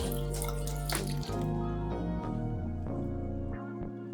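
Tap water runs and splashes while something is rinsed in a kitchen sink, a close, steady stream broken by brief gaps and drips.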